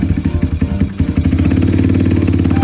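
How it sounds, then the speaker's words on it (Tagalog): A Bajaj CT 150 motorcycle engine runs loud and close, with a rough, rapid rhythmic chugging that stays steady and noisy throughout, with no voices over it. "narinig nyo naman na maingay nga rin talaga itong makina niya"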